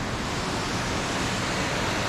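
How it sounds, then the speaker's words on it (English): A small Himalayan waterfall rushes in a constant, broadband hiss that stays steady and fairly close throughout, with nothing else breaking through. "Just made it to a little waterfall"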